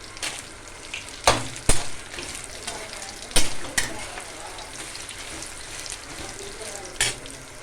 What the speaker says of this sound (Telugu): మెంతులు ఆవాలు ఎండుమిరపకాయలు కూడా వేగిపోయినాయి